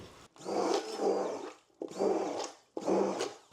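Soap batter with added fragrance oil is mixed by a stick blender in three short whirring pulses, each a second or so long with brief quiet gaps, close and steady, no speech.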